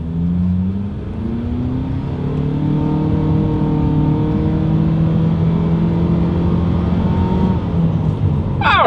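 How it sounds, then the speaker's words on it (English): A 2020 Mitsubishi Outlander Sport accelerates hard down a straightaway, heard from inside, its engine drone climbing steadily in pitch over several seconds as road noise builds, with no talk. "let's go ahead and actually see what the acceleration feels like here in the Outlander Sport"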